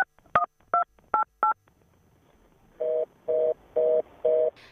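Telephone keypad tones from dialing a ticket booking line: five short, clipped beeps in quick succession, then four longer, evenly spaced tones, clear and close with no voices.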